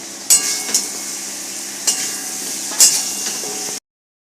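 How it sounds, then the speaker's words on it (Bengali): Chicken meat dropped into a pan of frying garlic, giving a steady close sizzle with a few sharp clinks and scrapes of a utensil against the pan; no voices. "রসুনটা অনেকটাই ভাজা ভাজা হয়েছে এবারে আমি মাংসটা দিয়ে দিলাম"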